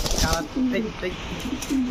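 Andalusian Danish pigeons at a fancy-pigeon farm give a few low, rolling coos, close by, with a faint voice mixed in underneath.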